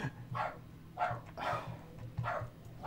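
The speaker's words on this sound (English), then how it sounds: "I think I just set the dog off" A dog barks repeatedly indoors, about five or six sharp barks spaced across a few seconds, fairly close and loud, with a low steady background hum and no talking.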